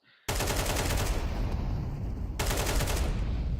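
Rapid automatic gunfire from a competitive shooter video game match crackles loudly and continuously in close, dense bursts, with a brief break near the middle before the firing resumes.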